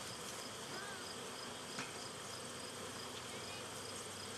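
Honeybees swarm around an open, strong backyard hive, making a steady, close droning buzz that holds evenly throughout with no pauses.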